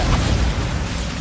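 A Bombarda spell explosion in Hogwarts Legacy, a loud, broad, rumbling burst that fills the short moment and decays only slightly, heavy in the low end.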